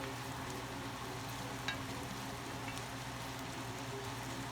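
Vegetables for New England clam chowder softening in a pot, giving a steady low sizzle and bubbling simmer with a couple of faint clicks, no talking.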